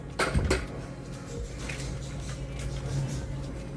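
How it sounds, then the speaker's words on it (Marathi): A metal kadhai set down on a gas stove, a couple of sharp clanks and scrapes near the start, then a low steady hum of the burner. "कढई ठेवते."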